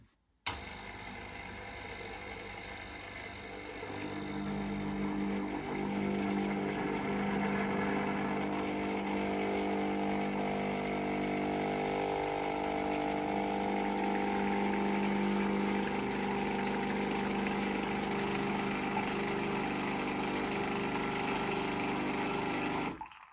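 A L'OR Barista Sublime capsule coffee machine runs its pump to push hot water through, a steady buzzing drone rising slightly in pitch and holding close and loud for about twenty seconds before cutting off.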